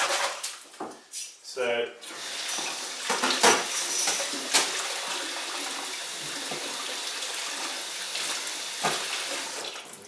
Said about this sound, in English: I need to clean my whisk. Always best to clean these things while they're still wet